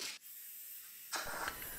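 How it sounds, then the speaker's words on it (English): A hobby powder coating gun bought off eBay sprays an axe handle during an axe restoration: a brief airy hiss, a pause of quiet, then a longer close burst of hissing spray. "This my powder coating gun was off eBay."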